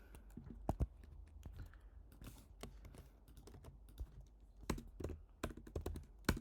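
Code being typed on a computer keyboard for a temperature and megabyte converter page, an uneven run of close, crisp key clicks with short bursts and pauses over a low steady hum, no talking.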